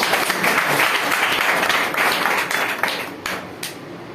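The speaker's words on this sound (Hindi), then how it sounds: "जोरदार तालियां सबके लिए" Loud applause from a seminar audience at a health business presentation in India, dense clapping that carries on throughout and thins toward the end, with a few isolated sharp claps standing out.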